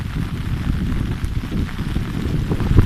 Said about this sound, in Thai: น้ำหน้าพาฝนพาพายุ